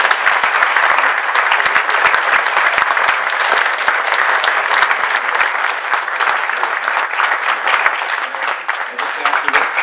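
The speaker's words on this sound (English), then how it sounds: "Let's give the candidates a round of applause." A city council debate audience gives the candidates a round of applause, dense, loud and sustained clapping that carries on steadily for nearly ten seconds.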